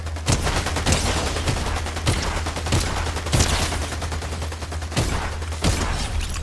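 Gunfire from the Fortnite video game: rapid bursts of shots crackle in quick succession, with several sharper, louder reports standing out over a dense, continuous barrage.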